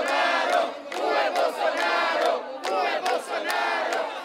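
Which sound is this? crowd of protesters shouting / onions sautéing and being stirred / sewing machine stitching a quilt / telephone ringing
crowd of protesters shouting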